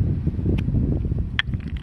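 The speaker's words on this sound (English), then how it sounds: "It's fucking windy out here." Strong wind buffets an outdoor microphone, producing a dense, loud low rumble throughout with a few faint clicks and rustles on top.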